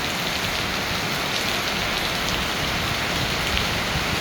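Steady, close downpour drums and splashes as rainwater streams off a roof, a thick unbroken wash of noise.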